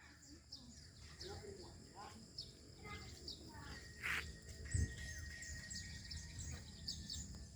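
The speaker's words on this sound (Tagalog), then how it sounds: "Daming ibon." Many birds chirping and calling outdoors near a watermelon patch, a busy mix of tweets and short calls at moderate distance, with insects buzzing and people talking faintly.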